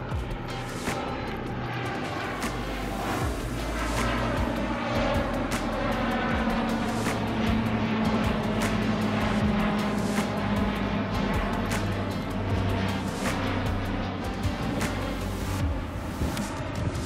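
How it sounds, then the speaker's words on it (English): Steady, loud drone of a low-flying airplane over the Yellowstone River in Montana, a continuous engine roar that holds the whole time without fading, with no talk over it. "Hey, our plane is back."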